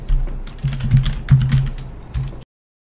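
Someone types on a computer keyboard in a close, quick burst of key clicks, with two short pauses. The typing stops abruptly into silence.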